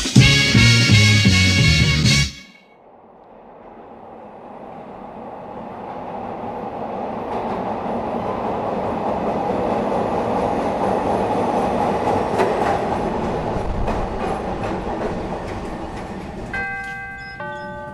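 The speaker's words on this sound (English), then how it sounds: "that's the rumble of the L, the subway in Chicago" A Chicago L subway train rumbles steadily for most of the stretch, building after a brief burst of music at the start and holding a broad, continuous roar with faint high squeals near the end.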